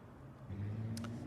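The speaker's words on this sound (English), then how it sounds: "that sound isn't from this car, that's somebody passing by. Sounds like a racer." A passing racer-style car drives by a parked 2020 Kia Stinger GT, its engine a low, rising hum that swells briefly at a distance, faint and brief, with no talk over it.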